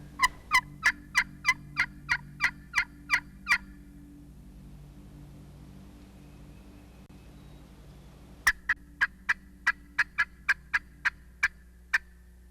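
Wild turkey gobblers sound off on a ridge side in spring woods, a rapid string of sharp, rattling gobbles in two bursts separated by a quiet gap, carrying clearly from fairly close range.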